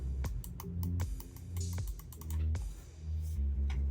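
A wireless mouse from a retro keyboard and mouse combo gives sharp, close clicks from its side buttons, repeated in quick irregular bursts over several seconds with a low hum underneath.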